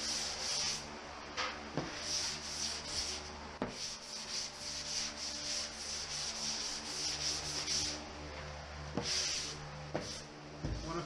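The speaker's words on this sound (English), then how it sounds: "The sponge I'm using is a 3M fine to medium sanding sponge." Steady back-and-forth scraping of a 3M fine-to-medium sanding sponge over a skim coat, soft repetitive rubbing strokes close up with occasional brief knocks, no talking.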